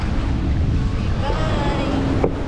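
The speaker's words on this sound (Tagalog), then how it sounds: "Mahangin po." Heavy wind buffeting the microphone with a low, rumbling roar, close and loud, a voice speaking briefly underneath.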